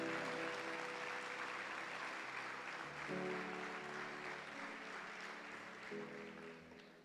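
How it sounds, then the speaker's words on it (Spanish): A church congregation applauds steadily for several seconds, a broad wash of clapping with music or sustained tones underneath, slowly fading toward the end. "Le damos un aplauso a la palabra de Dios."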